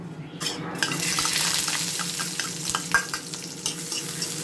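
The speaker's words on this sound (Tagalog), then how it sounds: "So, gisa tayo." Sautéing in a hot pan previously used to fry eggplant, for a shrimp-paste binagoongan, produces a loud, steady sizzle close by, with utensils repeatedly stirring and scraping against the pan.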